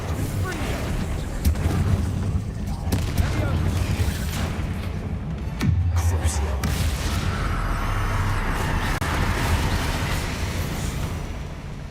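A Bombarda explosion spell goes off in the Hogwarts Legacy game: booming blasts and crackling impacts over a rumbling low bed, with a deep hit around the middle, mixed with game effects and a voice.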